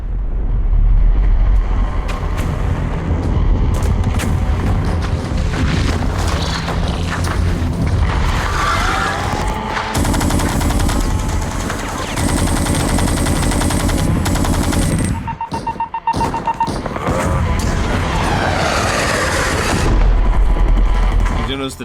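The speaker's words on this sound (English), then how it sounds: "The turrets in the background, by the way." Heavy turret fire rattles and booms through a StarCraft cinematic cutscene, rapid bursts layered with explosions and rumbling mechanical noise, loud and sustained with a voice talking over parts of it.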